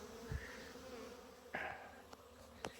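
Honeybees buzz around the entrance of a busy backyard hive on a warm November day, a faint steady hum with a few individual bees droning louder as they fly past close by.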